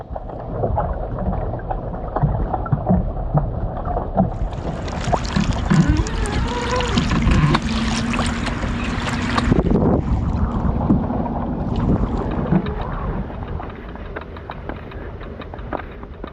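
A small motorboat putters along on the water, its engine droning steadily with wind buffeting the microphone and a brief lull partway through.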